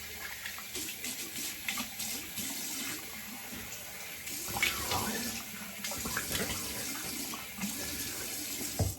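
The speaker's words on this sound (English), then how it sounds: "I'm gonna rinse off with cold water" Cold water running from a bathroom sink tap while a face is rinsed, steady flowing hiss with splashes and hand-cupping surges, close and without talking.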